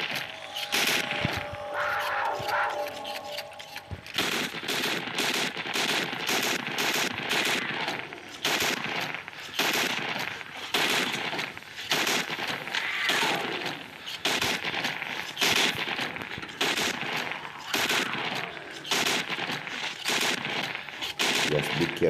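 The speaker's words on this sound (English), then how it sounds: "Machine gun blows." A machine gun firing in Into The Dead 2 as steady rapid bursts of loud, close automatic fire, repeating over a constant background din for the whole stretch.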